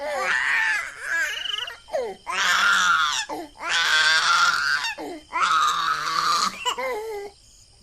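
A baby girl cries in long wailing bursts with short breathy gaps, loud and close, inside a horror story.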